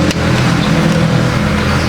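3 HP machine motor running, a loud steady droning hum with a brief click at the start, heard alone without talking.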